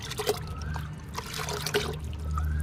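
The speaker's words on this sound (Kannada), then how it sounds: "ಈ ರೀತಿ ಸ್ವಲ್ಪ ಸ್ವಲ್ಪ ನಾವು ಗೊಬ್ಬರನ ಹಾಕ್ಕೊಳ್ಬೇಕು ಎಲ್ಲ ಗಿಡಕ್ಕೂ" Liquid fertilizer poured a little at a time onto potted garden plants, a soft steady trickle and dribble of liquid close by, running continuously with faint background noise and no talk.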